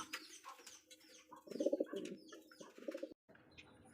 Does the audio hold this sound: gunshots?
no